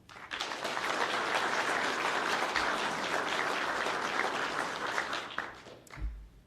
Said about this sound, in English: If we can get a round of applause for them as well.